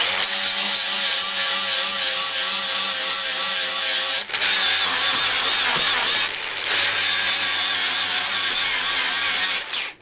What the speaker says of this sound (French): je vais mettre un gros coup de meuleuse là-dessus.